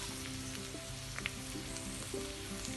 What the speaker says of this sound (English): You have to fry well.